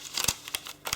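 Sheet of origami paper folded in half and creased while making a braided paper model, giving several close, crisp crinkling rustles in quick bursts with no talk.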